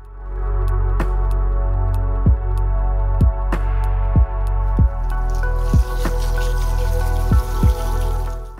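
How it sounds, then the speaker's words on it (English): Water from a garden hose pours steadily over jumbo Caladium bulbs to wash away potting medium and loose roots, a continuous rushing splash broken by regular wet squishing drops. "I'll proceed to hose down the bulbs to wash away the medium and loose roots."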